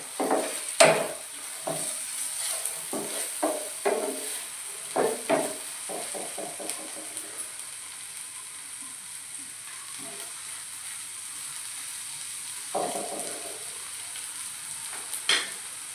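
Tomato chutney is stirred in a pan, with a spoon clinking and scraping in irregular strokes over a faint, steady sizzle and pauses between bursts.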